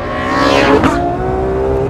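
A Ferrari F12 accelerating hard on a race track, its engine loud and close as it revs up through the gears with rising pitch before settling into a sustained high howl, with no talking.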